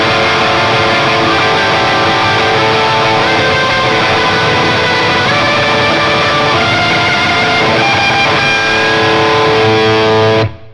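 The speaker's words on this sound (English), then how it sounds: "and then it goes into the tremolo picking" An electric guitar plays a sustained, effects-laden lead solo in the style of Bocchi's live performance, moving into fast tremolo picking with dense, continuous notes throughout before cutting off abruptly at the end.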